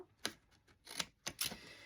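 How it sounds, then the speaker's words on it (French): Large scissors cut a sheet of digital printed paper for a handmade card, giving a few crisp, separate snips in a quiet room with no voice. "je vais prendre mes grands ciseaux pour faire une grande coupe droite"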